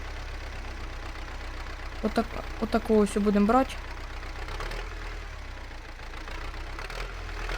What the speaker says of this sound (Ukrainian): Так, трактор не глушимо.